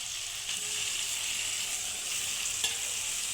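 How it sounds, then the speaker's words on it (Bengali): Cut pieces of nihere fish go into a hot pan of fried spices, giving a steady loud sizzle with faint stirring scrapes and no voices. "কেটে রাখা মাছগুলো দিয়ে দেবো।"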